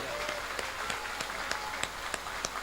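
Audience at a Radhashtami Rasleela performance by a Kathak dance troupe at Pachmatha Mandir in Vrindavan claps steadily, a moderate crowd of overlapping hand claps with a few sharper individual claps standing out, heard alone.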